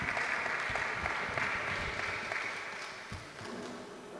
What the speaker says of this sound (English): Maybe we can have a round of applause for Marek.